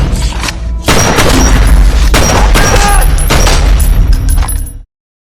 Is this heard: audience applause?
no